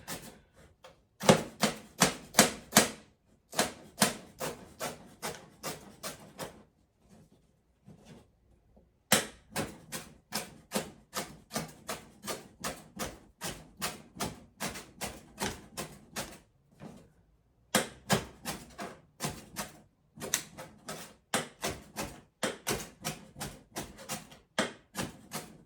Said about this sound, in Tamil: இதெல்லாம் இன்னுமா குட்டி குட்டியா நான் வெட்டிட்டு காட்டுறேன்.